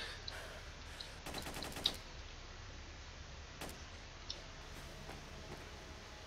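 Short bursts of automatic gunfire in S.T.A.L.K.E.R. rattle out faintly in the distance near the army warehouses. One longer burst is followed by a brief one and a few scattered shots over a quiet ambient background.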